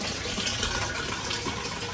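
Water pouring from a household tap to fill a container, a dense, even gush at steady loudness throughout, close by and with no voices.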